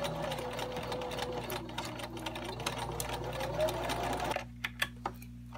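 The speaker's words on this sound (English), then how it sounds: "Sew along this side using a 1/4 inch seam allowance." A sewing machine stitches a quarter-inch seam along the raw edges of pinned fabric for a small pocket tissue holder, running steadily for about four seconds before stopping, followed by a few faint handling clicks.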